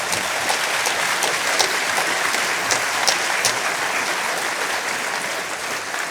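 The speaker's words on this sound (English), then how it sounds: "Give him a round warm of applause" A debate audience gives warm applause for a panelist, a loud, continuous patter of many hands clapping with scattered sharper claps standing out, steady for several seconds.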